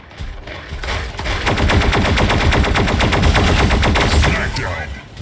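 Rapid automatic gunfire rattles loud and continuous in Mech Arena, a mech combat video game, with dense bursts of shots filling the scene.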